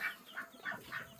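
Black Copper Marans chickens cluck in a barnyard pen, four short, evenly spaced calls within about a second, faint and close with no talking.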